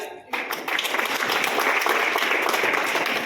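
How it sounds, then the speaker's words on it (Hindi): Hall audience bursts into loud, dense applause at a Bikaner institute event, starting abruptly after a brief pause and continuing steadily without letup. "जोरदार ताली।"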